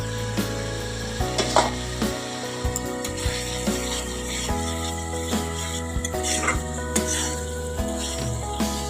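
Pre-fried potatoes go into a pan for a thin rohu fish and potato curry, sizzling steadily with soft stirring scrapes and clinks, fairly close and without talk.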